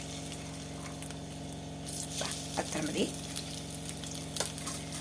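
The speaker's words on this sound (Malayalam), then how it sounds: "അതിലേക്ക് ഞാൻ 2 ഉള്ളിൻ്റെ അത്ര നമുക്ക് അതിലേക്ക് ഇട്ടിട്ട് ഒന്ന് വറുത്ത് കോരിയെടുക്കണം" Sliced onions frying in hot oil for chicken biryani, a soft crackling sizzle with a few brief bursts over a constant low hum, with a short spoken remark.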